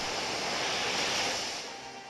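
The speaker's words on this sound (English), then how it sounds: "We're going to see a Waterfall." Whooshing rush of water as the Waterfall attack plays in a Pokémon VGC battle, a short roaring surge that peaks mid-way and then tapers off.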